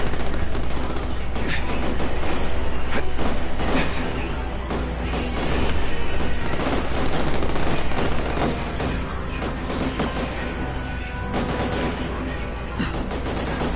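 Sustained movie gunfire from armor-piercing bullets, dense rapid machine-gun bursts and heavy shots roaring loud and continuous for many seconds with crashing impacts.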